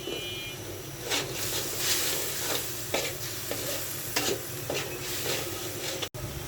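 Coral fish frying in oil with turmeric and chili, a steady sizzle with repeated scraping stirs of a spatula in the pan, close and continuous.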